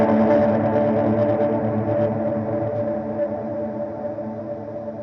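Electric guitar swells with a tremolo effect, a sustained tone whose volume pulses and wavers steadily, playing alone and slowly fading over about five seconds.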